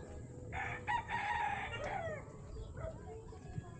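A rooster crows on a small farm among other livestock, one drawn-out crow at moderate distance over a steady low background rumble, followed by fainter fowl sounds.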